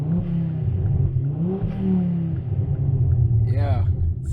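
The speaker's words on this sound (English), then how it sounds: "You just listen to that burble down low. That is not map, that is not anything else. It is simply what a 5-cylinder does." The five-cylinder engine of a 2011 Ford Focus ST 225 burbles low and steady while driving on the road, with a deep rumble that swells slightly, heard from inside the car.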